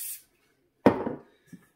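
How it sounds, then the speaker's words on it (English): A brief hiss of cooking oil sprayed inside a bowl at the start of pretzel-making, then a sharp knock and clatter of the bowl being handled, with a soft tap near the end. "Just spray the inside of the bowl."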